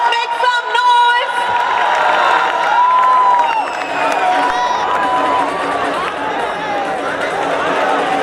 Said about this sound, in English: Come on, get your huge round of applause.